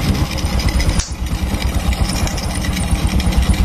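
A carbureted Honda Supra X 125 motorcycle engine runs during a test, a loud, steady, rough mechanical drone with a brief dip partway through.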